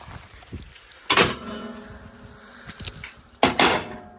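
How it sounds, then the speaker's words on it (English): A car door is shut in two solid thuds, the first a short way in and the second near the end, each with a brief rattle, against quiet background movement. "So shut the door."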